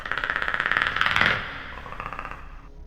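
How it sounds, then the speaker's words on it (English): Rapid predator clicking from a Minecraft horror mod rattles in a fast, steady train of clicks that swells, peaks, then softens and trails away. "Predator clicking noises."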